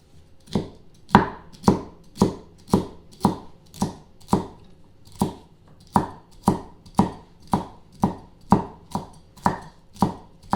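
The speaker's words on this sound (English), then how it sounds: "Either way, you're going to chop up the celery" A cleaver chops celery on a cutting board, about twenty sharp, evenly spaced thwacks in a brisk steady rhythm, loud and close with no talking.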